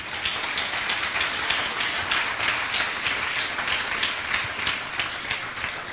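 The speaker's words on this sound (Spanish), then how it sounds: "Den un aplauso al Señor." A congregation in a Spanish-language church service applauds together, a dense, sustained wash of many hands clapping at steady loudness throughout, with no clear voices on top.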